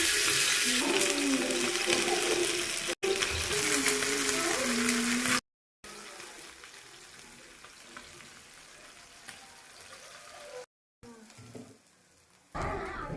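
Marinated fish fries in oil on a flat pan, giving a loud steady sizzle and crackle broken by short cuts, with a voice talking over part of it.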